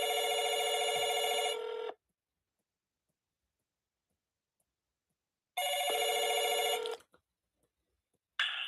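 A telephone rings in two long electronic bursts separated by a few seconds of silence, clear and fairly near, with no voices.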